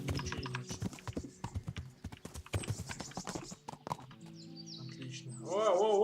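Horse hooves clip-clopping at a steady walking rhythm in the medieval video game Kingdom Come: Deliverance, close and clear, with a brief tonal call near the end.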